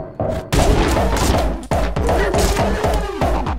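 Rapid gunfire from the first-person action game Anger Foot, with dense bursts of shots and heavy thumps repeating loudly and continuously, close and dominating.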